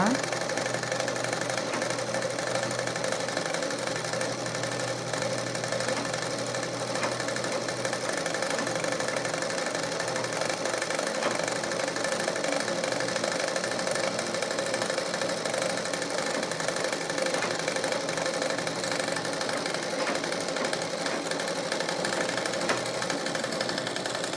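Sewing machine stitching thread to make a blouse dori, a continuous fast mechanical whirring and tapping that runs steadily throughout without pause.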